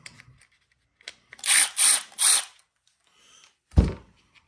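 Screw being backed out of the lower plate on a Traxxas Xmaxx rear bulkhead, heard as three short, close whirring bursts in quick succession, followed after a pause by a single sharp knock.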